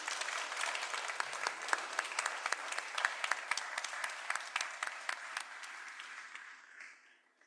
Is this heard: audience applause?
yes